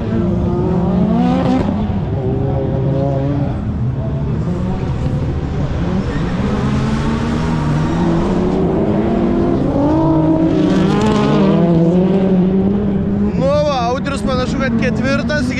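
Rallycross race cars, including a red Mitsubishi Lancer, roar and rev loudly with rising and falling engine pitch as they race, under constant excited commentary in Lithuanian.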